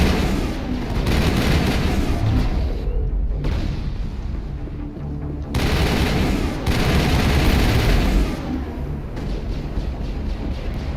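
Sustained, loud rapid gunfire in the sci-fi shooter Mass Effect, dense bursts of automatic fire continuing with brief drops in intensity.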